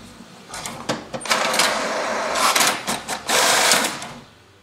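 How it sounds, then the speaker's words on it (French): A home printer runs a double-sided print job, giving bursts of mechanical whirring and rattling feed noise with brief pauses between passes, moderately loud and close, with no talking. "L'imprimante va alors lancer l'impression."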